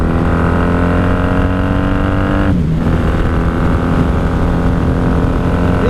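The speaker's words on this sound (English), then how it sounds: "we're aboard the 1994 Honda Magna 750." A 1994 Honda Magna 750 V4 cruiser motorcycle being ridden, its engine droning loudly and steadily with strong harmonic tones, and a brief dip in pitch as the revs shift partway through.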